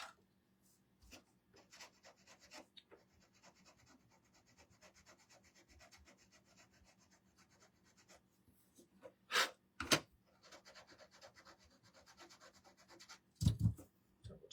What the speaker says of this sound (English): let's sand that little spot right there.